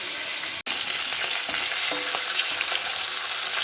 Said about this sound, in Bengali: এটা মাছ ভাজা হচ্ছে